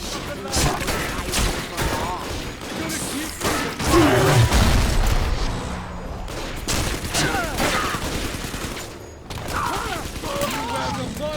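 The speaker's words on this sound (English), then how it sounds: "So I'll use the machine gun just to show it off" Machine gun fire in the shooter game Bioshock 2, loud sustained bursts of gunfire and mechanical clatter mixed with game effects, with voices speaking over it throughout.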